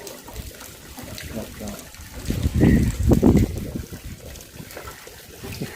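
Rainwater leaks and trickles down in a street-side setting, a steady wet dribble that swells briefly, with voices talking over it.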